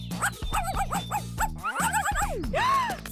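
A playful dog lets out a quick run of high yips and whimpers, short bouncing cries in a close rhythmic burst, ending with a longer rising and falling whine.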